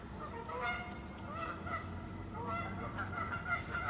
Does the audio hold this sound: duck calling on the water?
yes